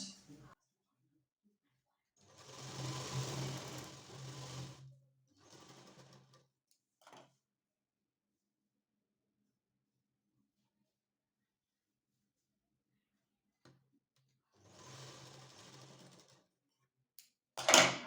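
A sewing machine stitches a folded blouse strip in short bursts of rapid, even clatter, separated by long quiet pauses, close and clear.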